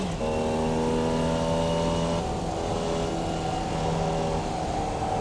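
Formula Vee race car in the iRacing game, its engine holding a loud, steady buzzing drone with strong harmonic tones that dip once as the gearbox shifts.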